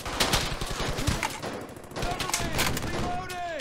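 Gunfire in the World War II shooter Brothers in Arms: Hell's Highway, a dense fusillade of rapid rifle and machine-gun shots under a busy game soundscape, fairly loud and continuous throughout.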